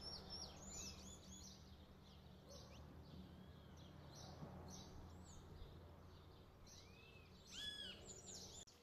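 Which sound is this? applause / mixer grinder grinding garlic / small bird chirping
small bird chirping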